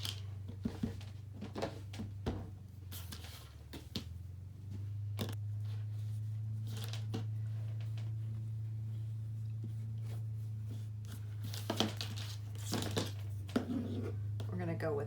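Scissors cutting through the fabric of a dress sleeve: scattered sharp snips and crisp clicks over a steady low background hum.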